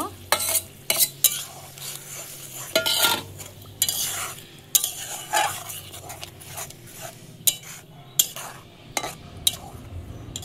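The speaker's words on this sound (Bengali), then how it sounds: "এখন এই পালক শাকটা দিয়ে দেব, কষিয়ে নেব।" Spinach and fish roe are stirred and sautéed in a pan in a village kitchen, with a spatula scraping and clanking against metal in repeated strokes over a soft continuous sizzle, close and loud.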